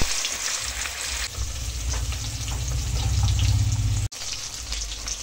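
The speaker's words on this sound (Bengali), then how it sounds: "কড়াইতে তেল গরম করে মাছগুলো এক এক করে আমি ভেজে নেব।" Katla fish pieces coated in salt and turmeric fry in hot oil in a wok, giving a close, continuous crackling sizzle with one brief break near the end.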